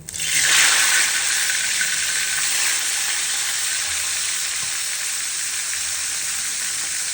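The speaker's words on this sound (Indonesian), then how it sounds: "Lanjut goreng gerih." Salted fish fries in a hot pan with a loud, steady sizzle that swells at the start and then holds even throughout, close to the pan and with no talking.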